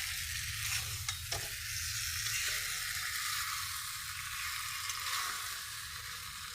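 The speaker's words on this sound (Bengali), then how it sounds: "আলু ফুলকপি মশলার সাথে আমি খুব ভালো করে কষিয়ে নিয়েছি" Potatoes and cauliflower cooking down with ground spice paste in an oiled pan give a steady, soft sizzle, broken by a few brief scrapes of stirring.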